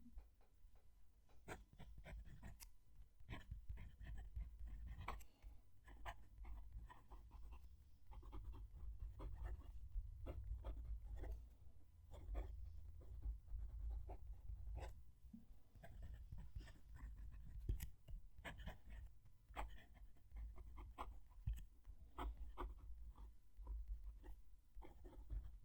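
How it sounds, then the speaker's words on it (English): Majohn fountain pen with a fine nib writing on paper, heard up close as soft, faint scratching strokes in irregular bursts over a low background rumble. "I'm going to move the mic down to the page so you can hear the pen write."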